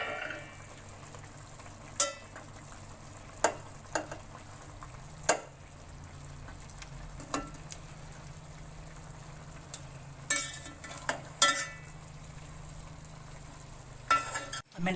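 Chicken tikka frying in a covered pan, with a low steady sizzle broken by several sharp knocks and clatters as the pieces are turned over; fairly quiet overall.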